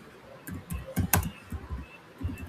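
Soft, irregular keystroke clicks on a computer keyboard, close and fairly quiet, typed in short uneven bursts with brief pauses between.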